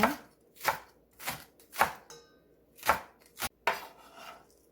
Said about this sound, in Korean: 대파 한 뿌리 어서 썰어서 넣어줄게요